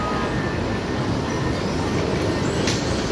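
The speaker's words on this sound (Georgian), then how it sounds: "Ამ მიმართულებით გამემგზავრები ახლა მეტროთი ქალაქის ცენტრისკენ" An airport metro train in Athens rolls past with a loud, continuous rumble of wheels on rail and a faint squeal, with no one talking.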